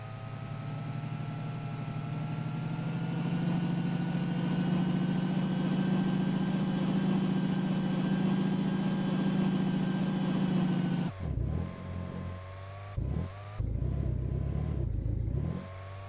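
A truck engine in the video game SCP: Secret Files drones steadily and loudly for about eleven seconds, then cuts out abruptly and returns in a few short broken bursts.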